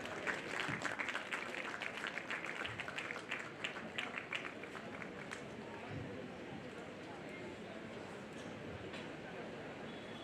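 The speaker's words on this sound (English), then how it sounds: "Guys, give him a round of applause." Audience applause at an engineering college graduation day ceremony in Bangalore, dense crowd clapping that is loudest at the start and then settles into a steady, slightly quieter wash.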